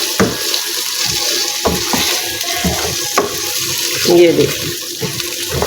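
Chicken fries in a pan for a chicken cholay dish, with a steady hiss and sizzle broken by clinks and scrapes of stirring, while someone talks over it.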